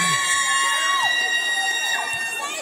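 A large crowd roars and cheers continuously, a dense wall of shouting voices with scattered high whoops rising above the din, loud and sustained throughout.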